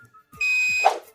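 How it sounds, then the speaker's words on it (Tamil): A multimeter in continuity test mode gives a single sustained electronic beep lasting under a second, bright and close, preceded by faint clicks of the probes touching and ending in a short rustle. "டச் பண்ணால் பீப் சவுண்டு கேட்குது."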